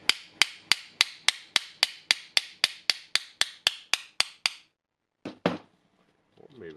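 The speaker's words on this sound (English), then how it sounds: "my loved way is hammering" A steady series of about fifteen sharp metallic hammer blows at an even rhythm on a small Hikoki angle grinder's gear during servicing, then a pause, a couple of clunks and faint rustling.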